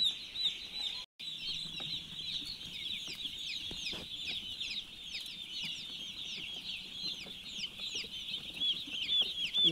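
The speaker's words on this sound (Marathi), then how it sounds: "एक दिवसाचे पक्षी आहे." Many day-old heavy broiler chicks cheep continuously in a poultry shed, a dense chorus of high peeping calls with steady background hum, no talk.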